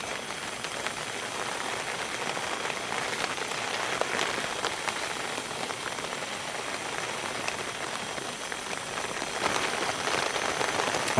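Rain pouring steadily on a tent pitched in a garden, a dense constant patter of drops close by that continues unbroken throughout.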